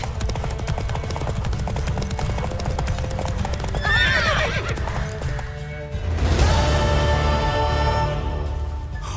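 A horse whinnies loudly midway while its hooves keep galloping in a steady rhythm during a race in The Witcher 3 video game, followed by a burst of crashing noise near the end.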